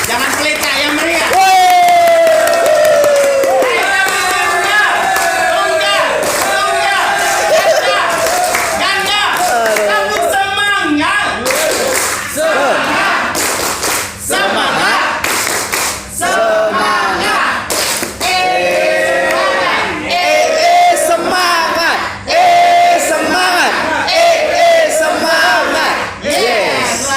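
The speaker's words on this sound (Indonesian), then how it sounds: "Ini tepuk tangan yang meriah" A large audience of scout leaders at a Pramuka book session breaks into lively clapping, mixed with loud group chanting and shouting voices that continue steadily throughout.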